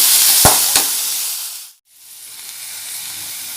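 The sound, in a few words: tomato and garlic sautéing in a pan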